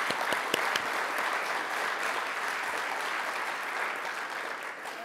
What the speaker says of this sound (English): So I'd like to give all of them a hearty round of applause and thank them